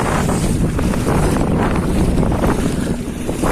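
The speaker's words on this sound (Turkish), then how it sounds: "Nasıl rüzgar var ama" Strong wind buffets the microphone in a constant roar in the Marmaris outdoors, with rushing gusts and faint water noise underneath.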